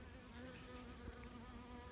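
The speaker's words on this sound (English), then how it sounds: "Lots of bees inside this colony" Honey bees inside a busy colony give off a faint, steady droning hum that stays even throughout, with no voices.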